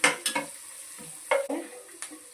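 Ginger, carrot, onion and green chili frying in a pan, with a few short, close stirring scrapes and sizzling bursts separated by brief pauses.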